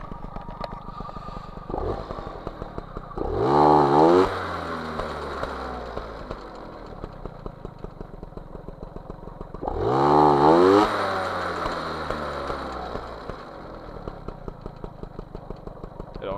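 A small MBK 51 Magnum moped engine with a 15 PHBG carburettor idles low and even, twice revving up briefly to a louder buzz before settling back to its slow putter, recorded up close.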